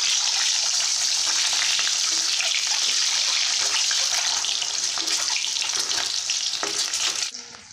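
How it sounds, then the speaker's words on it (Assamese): Eggs fry in oil in a pan with a loud, steady crackling sizzle that runs unbroken for several seconds, then cuts off abruptly near the end, with no voices. "এতিয়া মই ডিমকেইটা বাৰু ফ্ৰাই কৰি লৈছোঁ।"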